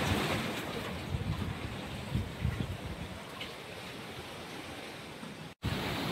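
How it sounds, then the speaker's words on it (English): Ocean waves wash against rocks at the end of a short pier in Grenada, a constant broadband surf roar with soft breaking swells and light wind, no talking, a brief dropout near the end. "You can hear the waves in the back."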